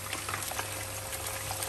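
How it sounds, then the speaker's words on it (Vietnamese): Fish fries in tomato sauce, a steady dense sizzle and bubbling that holds level throughout with no voices over it. "Chiên sốt cà."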